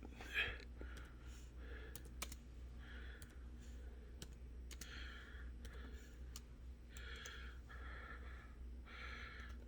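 Quiet typing on a MacBook keyboard as a script is entered in the terminal, with soft, rapid key taps in short bursts separated by brief pauses.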